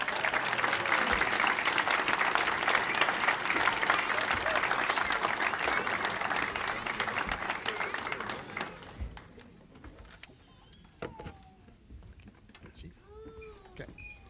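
A ceremony audience gives a loud, sustained round of applause for employees receiving service awards. The clapping fills the room for several seconds before it fades and a voice begins speaking.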